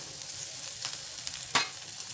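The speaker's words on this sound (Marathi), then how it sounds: "तेल छान तापले त्यामध्ये लसूण घालायचं बारीक कापलेलं आणि हे आलं" Finely chopped garlic and ginger frying in hot oil for veg momos, a soft steady sizzle with a few stirring clicks and one sharper scrape, with no talking.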